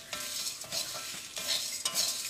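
Roasted chana dal and toor dal with asafoetida being stirred in a pan for Kerala sambar powder, a dry scraping and rustling of spoon on metal in repeated strokes, close and steady with no talk.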